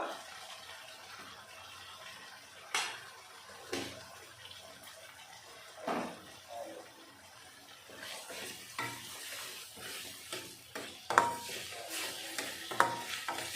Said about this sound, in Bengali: দিয়ে আমি ভালো করে মশলাটা কষিয়ে নেব